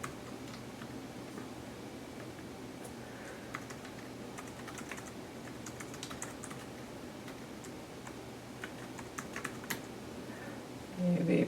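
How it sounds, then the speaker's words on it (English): Keys tapping on the Asus Eee Pad Transformer keyboard dock in a steady, quiet patter of close clicks over faint background hum. "We can type here."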